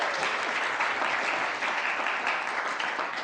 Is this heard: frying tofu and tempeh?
no